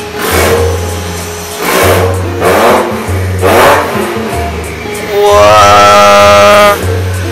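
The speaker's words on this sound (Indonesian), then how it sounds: "Ini mau gue geber atau gimana nih? Gue gas nih." Mitsubishi Xpander Turbo engine revved repeatedly in short bursts, loud and close, with a longer sustained rev near the end and a steady idle drone between pulls.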